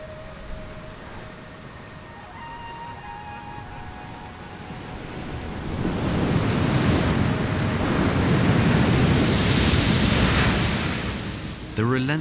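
Sea waves surging against cliffs beside a sheltered bay where young fur seals swim, a broad roaring wash that swells louder midway and holds steady. Faint tonal sounds sit in the background.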